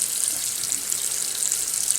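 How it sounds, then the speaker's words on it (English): Cold tap water runs steadily over lettuce in a kitchen sink, a continuous close hiss of splashing water with no breaks and no talk. "The lettuce, I'm just going to put the cold water right on top of the lettuce."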